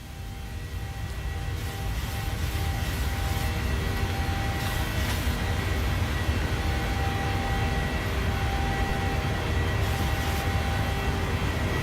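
Airliner engine drone in flight in Microsoft Flight Simulator 2020 on a Southwest flight from KLAX to KPHX, a steady, loud, even roar throughout with no talk.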